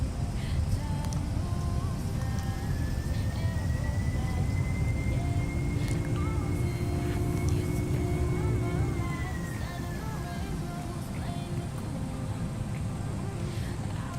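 A Boeing 757-200 in X-Plane 11 roars steadily as its thrust reversers deploy after landing, a loud continuous engine rush with a rising whine that holds and then fades slightly.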